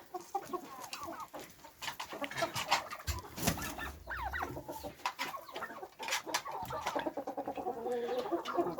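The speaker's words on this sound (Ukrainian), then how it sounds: "індики полохливі." Turkeys clucking and gobbling in several overlapping calls, fairly close and continuous, with a louder flurry midway.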